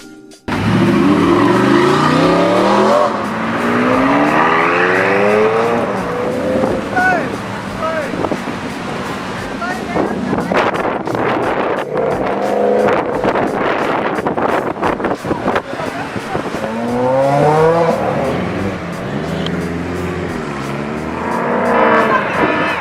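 Ferrari and Lamborghini supercars rev and accelerate again and again, loud engine notes sweeping upward in repeated bursts over about twenty seconds with wind buffeting the microphone.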